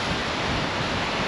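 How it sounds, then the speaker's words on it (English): Rough ocean waves at the entrance to Hamilton Harbour near the lift bridge, a dense continuous roar of surf mixed with wind buffeting the microphone, steady and loud with no talking. "you can hear the waves"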